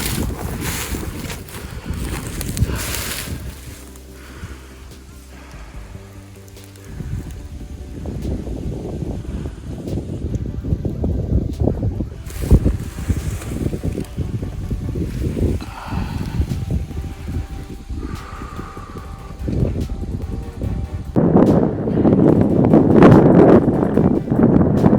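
Wind blowing across Soyang Lake at a camping and fishing spot, a steady broadband rush with gusts that swell louder toward the end, with no talking heard.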